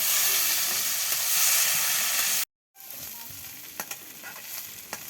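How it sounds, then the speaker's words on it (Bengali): Potatoes with shrimp frying in a wok in a village kitchen, a steady loud sizzle with stirring scrapes, cutting out briefly to silence before a quieter, continuing sizzle. "এগুলো সুন্দর করে ভাজি করে নেবে।"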